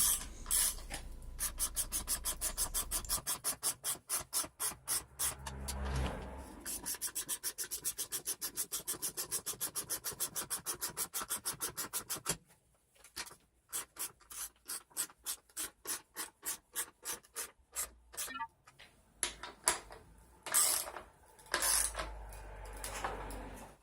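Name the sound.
tightening lag screws to mount a garage shelf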